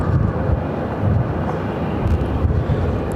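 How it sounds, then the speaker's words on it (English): Aircraft on its takeoff roll from runway 25 right at Phoenix airport, a broad, steady roar heard from a distance and mixed with wind buffeting the microphone. "Let's have a takeoff on the 25 right at the same time."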